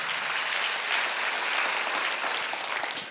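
A church congregation applauds during a Sunday worship service: dense, continuous clapping fills the room at a steady level and trails off slightly at the end.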